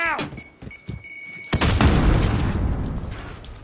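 A grenade goes off in the video game Call of Duty MW, a loud sharp blast that follows a few short clicks and a tone, then a long rumbling tail.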